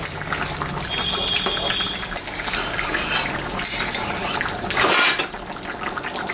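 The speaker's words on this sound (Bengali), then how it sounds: "তরকারিটা ফুটে গেছে, আমি এখন মাছটা দিয়ে দেবো।" Prawns dropped into a bubbling curry in a pot, with steady wet simmering and splashing throughout and a louder splash and stir near the end.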